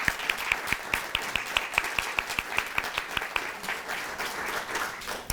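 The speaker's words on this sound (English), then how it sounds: "So a round of applause for them." An audience at a community presentation applauds, a moderately loud wash of clapping with a few sharp, evenly spaced claps standing out near the front, easing off toward the end.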